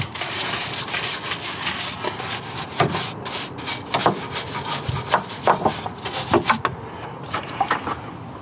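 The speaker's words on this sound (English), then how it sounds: "we just want to give everything a good going over with this big brush" A large stiff brush scrubs a car's wheel arches during winter cleaning, a steady close rasping with repeated strokes and occasional harder knocks, continuous and loud with no voices.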